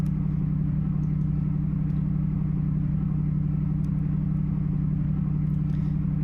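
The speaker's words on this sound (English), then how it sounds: "this is the only engine sound you'll be hearing today" A fully electric Formula Lithium race car, built to Formula E style rules, in a sim racing game, giving a steady low electric motor hum that holds constant throughout without talk.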